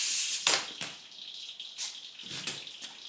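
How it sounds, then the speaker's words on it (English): Engine oil splashing onto a garage floor from a 1977 Camaro Z28 with its oil filter missing, a steady close hiss of liquid with irregular splattering bursts, no talking. "We forgot to put the oil filter on, so we just went one quart here to one quart on the floor."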